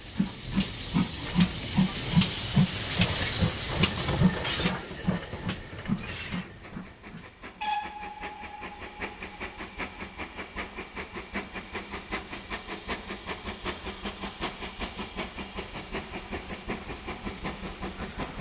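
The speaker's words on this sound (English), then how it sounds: "Steaming forward is an example of the 7800 class, better known as the Manor class." A GWR 7800 Manor class steam locomotive working forward, with loud hissing steam and rhythmic chuffing exhaust beats that settle into a steady, fast, evenly spaced puffing as it moves along, no talk.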